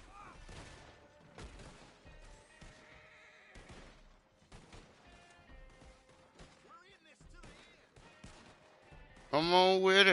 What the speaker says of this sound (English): There's some shooting going on.